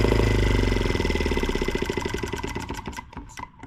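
A small M12B engine running on alternative fuel drops back to idle, its loud close-up drone slowing into an even chugging pulse that fades softer toward the end, with no talking.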